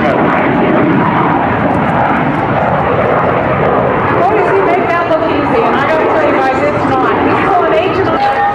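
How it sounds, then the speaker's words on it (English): A MiG-17F jet with a VK-1A engine takes off on afterburner at a 2008 March AFB air show, a loud, continuous roar that dominates throughout while an announcer talks over it. "I hear the rush of that VK-1A engine right now"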